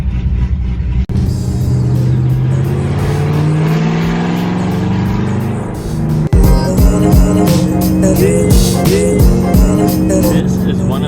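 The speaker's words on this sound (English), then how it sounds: "The chop with these muffler deletes sounds so glorious." A cammed Mustang GT with straight pipes and muffler deletes drives on a freeway, its loud engine droning and rising through revs, then a sharp shift and a choppy, rumbling burst of exhaust.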